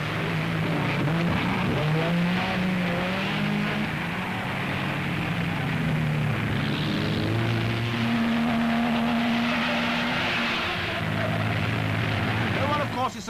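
Supercharged 1930s Mercedes Grand Prix race cars drone and whine past in a continuous roar, engine pitch rising and falling as they pass, under a commentator's voice.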